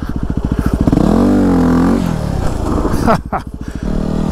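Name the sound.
Yamaha WR250R motorcycle revving during wheelie practice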